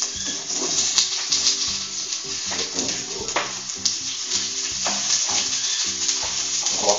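Cauliflower and onion fry in a pan for a shrimp rice dish, with a steady sizzle throughout and repeated clinks and scrapes from stirring.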